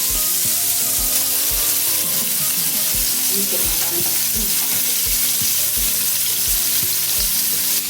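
Fish frying in a pan, a loud steady sizzle with continuous hiss and crackle throughout, no voices.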